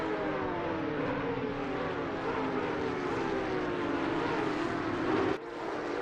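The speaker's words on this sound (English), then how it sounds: "Yes, Shiren, those downshifts" A race car engine in a sim racing video game at Laguna Seca holds a loud, high, buzzing drone with falling pitch through downshifts, then cuts off sharply near the end.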